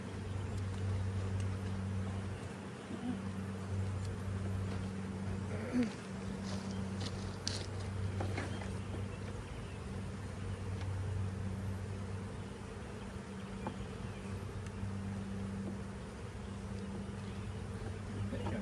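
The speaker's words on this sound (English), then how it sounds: "All these worker bees that are coming back." Worker honeybees returning to a hive during a hive split make a steady, dense buzz close by, with a low hum running under it and occasional faint bumps and rustles.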